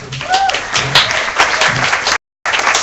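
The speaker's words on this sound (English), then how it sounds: "Please give a round of applause." Audience applause at a Webcamp KL tech meetup in Kuala Lumpur, a steady dense patter of many hands clapping close by, with voices mixed in, cut off briefly near the end before resuming.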